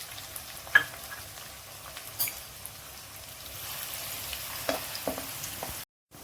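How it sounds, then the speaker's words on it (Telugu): Onions frying in oil in a kadai for a dried prawn curry, a soft steady sizzle with scattered pops and stirring clicks, ending in a short moment of silence. "ముందుగా ఉల్లిపాయలు వేయించుకుందాం అండి"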